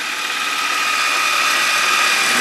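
A motorcycle engine running steadily in a workshop while its ignition is being lightened, a loud, close, continuous hum with a sustained tone and no talk.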